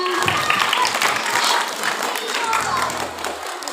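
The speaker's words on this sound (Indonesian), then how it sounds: "Dikasih tepuk tangan." Schoolchildren applaud in a classroom, a burst of close, bright clapping from a small group that carries on evenly, with some talking mixed in.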